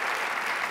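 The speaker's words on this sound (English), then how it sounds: "that definitely deserves an applause." Audience applause in a room during an onstage conversation on Planned Parenthood and women's health, a brief steady wash of clapping at close range with no voices over it.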